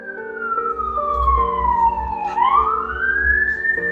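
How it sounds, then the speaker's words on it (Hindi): An emergency siren wails outside, one long tone sweeping down and then back up, clear and fairly loud over a low traffic rumble. "देखिए जी, सायरन बज रहा है बाहर।"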